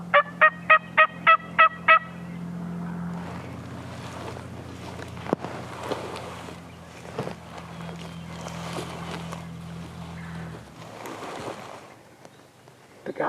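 Wild Rio Grande turkey gobbler in Kansas sounding a rapid series of about seven sharp, rattling gobbles, fairly close and loud, then fading into wind noise with faint rustling and a few soft clicks.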